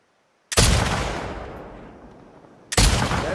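Gunfire in The Last of Us, a loud blast that decays slowly over about two seconds before a second heavy shot cuts in, close and dominant, with no talk.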